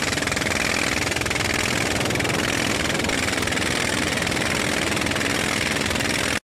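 A fishing boat's engine runs on a river, a loud, close, continuous rattling drone with even vibration that holds steady before cutting off abruptly at the end.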